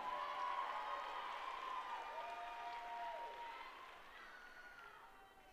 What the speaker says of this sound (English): Big round of applause for our high-scoring floor champions.